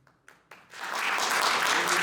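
An audience at a candidate forum for Oregon treasurer bursts into applause after a few sharp isolated claps, building quickly into sustained, dense clapping from a crowd in a room.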